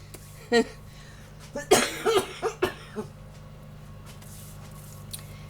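A short, close fit of coughing: several harsh coughs in quick succession after a brief earlier sound, then quiet room tone.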